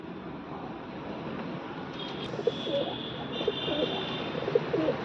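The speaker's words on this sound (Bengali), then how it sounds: "লাল শিরা পায়রা।" Soft, low coos from a male red-shira pigeon at Bagjola market repeat a few times, half buried in a steady, noisy background hiss.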